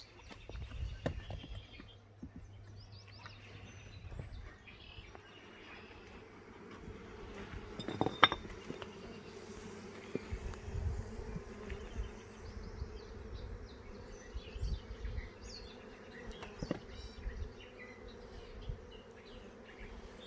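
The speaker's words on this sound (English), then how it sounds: "Try to get some of the bees off." Dense, steady buzzing of many honey bees around an open hive, close and continuous, with occasional soft knocks and clatter of handling.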